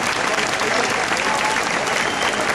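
A steady, dense wash of audience applause fills the hall at a chamber orchestra concert in Mérida, loud and continuous throughout with no pauses.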